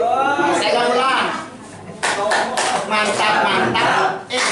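A group of teachers performs a patterned clapping routine, with bursts of sharp, rhythmic hand claps alternating with a leader's voice and group chanting, loud and close.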